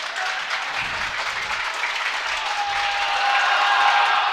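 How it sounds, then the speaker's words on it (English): Elder Panthers fans, JV and varsity players, cheer and applaud at a high school volleyball match against Alter in a gym, giving a steady, moderate crowd roar that swells slightly toward the end. "Got a little bit of cheering from the Elder Panthers, both on JVA and varsity, trying to help out their JVB."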